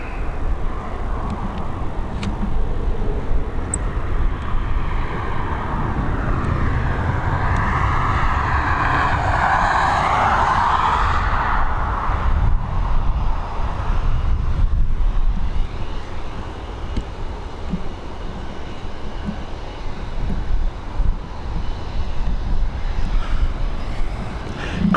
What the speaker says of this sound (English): we've got Lauda ready for departure now